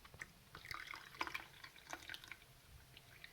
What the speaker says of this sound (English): Now we're just going to pour in